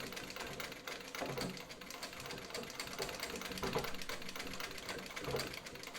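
A 1905 Singer 15-30 sewing machine stitches layered material and webbing, running as a steady, close mechanical chatter with faint rhythmic thumps, alone with no talk.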